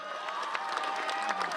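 Graduation audience at a high school ceremony breaking into steady, dense hand clapping with some cheering, a continuous wash of applause from a large crowd at moderate distance.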